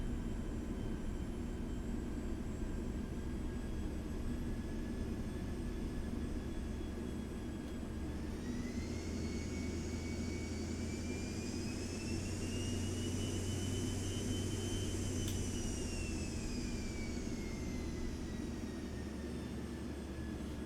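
Jet airliner engines in the X-Plane 12 flight simulator, on a flight from Fort Lauderdale to Key West, hold a steady, loud whine and rumble, the tone rising and swelling midway before settling, with no talking.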